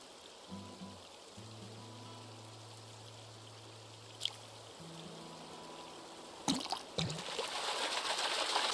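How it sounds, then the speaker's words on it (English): Steady rushing water from a waterfall and river in the Animal Crossing video game, running continuously alongside soft musical tones, with a brief splash-like burst near the end. "I just love waterfalls"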